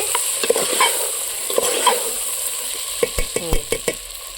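Mutton curry stirred in a pot over a wood-fired stove outdoors near a farm field, with loud close scraping and clanking of a spoon on metal over a constant sizzle, the strokes quickening toward the end.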